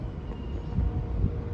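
Steady low rumble and rolling clatter of a short Norfolk Southern freight train, number 241, heading southbound on the Charlotte District at night, passing continuously with no talk.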